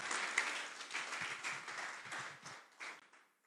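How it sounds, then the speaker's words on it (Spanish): Brief applause from a congregation during a Spanish-language sermon, moderately loud clapping that swells and then fades out over a few seconds. "Dale un aplauso a Dios."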